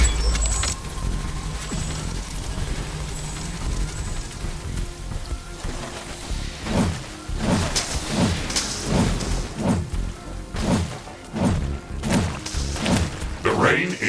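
Rain falls steadily in The Riftbreaker video game, a continuous hiss layered with rhythmic, thudding game sounds that pulse in the second half, fairly loud and without talk.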